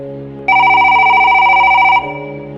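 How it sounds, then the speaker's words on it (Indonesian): A telephone rings once, a loud electronic trill lasting about a second and a half, over a low background tone. "teleponnya berdering."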